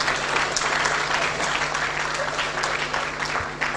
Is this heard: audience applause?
yes